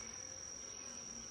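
Steady, faint honeybee buzzing with a thin high whine, continuous throughout, droning nearby at a hive entrance.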